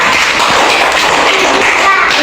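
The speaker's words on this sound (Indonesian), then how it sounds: "kita tepuk tangan untuk kelompok 2" A class applauds a student group: a short burst of dense, loud group clapping from a room full of people, sustained and even throughout.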